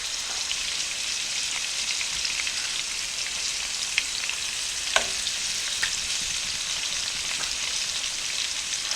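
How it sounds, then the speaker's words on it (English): Pork chops searing in a hot pan, giving off a steady, even sizzle with no pauses. A few faint pops and crackles break through now and then, and no one talks. "we're going to cook these for about 4 minutes on one side until we get a nice sear"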